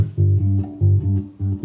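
Bass guitar with its tone knob turned fully off, giving a dark, muffled, underwater-like low riff of repeating notes in a steady rhythm, played alone and fairly loud.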